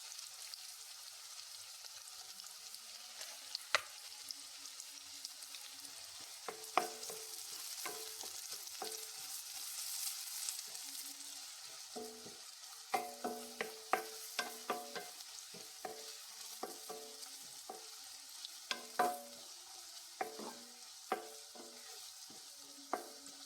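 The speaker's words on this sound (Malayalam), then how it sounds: "കുറച്ച് സവാള ഒന്ന് വറുത്തെടുക്കാം" Sliced onions frying in a pan of hot ghee and oil for ghee rice, giving a steady close sizzle broken by frequent sharp clicks and scrapes of a spoon stirring against the pan, with no talking.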